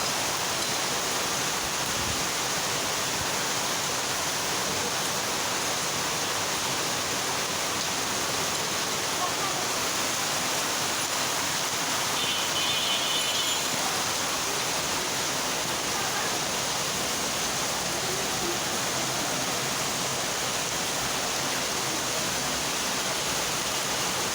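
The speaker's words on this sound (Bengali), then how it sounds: "এই মুহূর্তে বাংলাদেশের আকাশে প্রচুর পরিমাণ বৃষ্টি হচ্ছে।" Heavy rain pours steadily and densely, a loud, unbroken broadband roar of water hitting surfaces that lasts throughout with no pauses.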